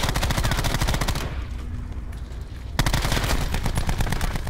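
Rapid automatic gunfire from an enemy in the battle royale shooter Call of Duty: Blackout, loud dense bursts that stop briefly midway and then resume just as intensely.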